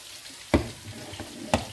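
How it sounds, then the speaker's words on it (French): Tomato poured onto sweated onions in a hot frying pan gives a soft steady sizzle, broken by two sharp splashy bursts about a second apart. "maintenant je vais couler la tomate"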